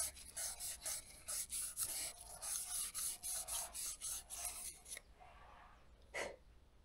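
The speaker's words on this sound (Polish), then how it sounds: "w taki sposób to ładnie wypoleruję" Rapid back-and-forth rubbing as a hand polishes a sticking sliding part, about fifteen quick strokes in a steady rhythm, close and quiet, then a short pause and one final scrape.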